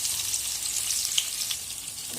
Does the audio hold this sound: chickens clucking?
no